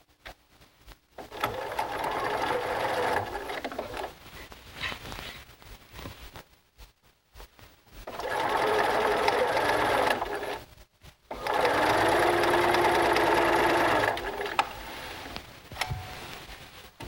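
A sewing machine joins quilt strips with a quarter-inch seam, running in three close, steady whirring bursts of a few seconds each, with short quiet pauses between runs and no talking.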